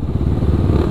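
A Kawasaki KLX 450 supermoto idles close by with a steady, loud, lumpy single-cylinder thump, a fast rhythmic chug that holds even throughout without revving.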